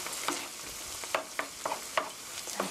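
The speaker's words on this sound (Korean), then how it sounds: "이렇게 같이 섞어서 볶아주시고요" Ketchup and meat sauce being stir-fried for a meat sauce rice bowl, a steady sizzle broken by a handful of sharp scraping strokes of a spatula in the pan, close and with no talking.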